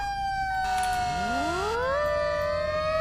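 Emergency vehicle sirens in the video game Flashing Lights sound loud and close, with tones sweeping upward and overlapping as a new siren pattern rises and then holds steady.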